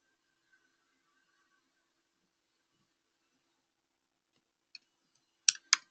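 Three or four sharp computer mouse clicks, made while opening a presentation, come close together near the end after several seconds of near silence.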